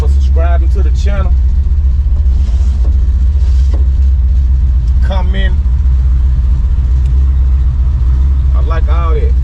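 Chevrolet C10 truck engine idling after a cold start, a loud, steady low rumble running the whole time, with brief bursts of someone talking over it.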